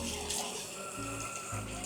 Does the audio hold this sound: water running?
yes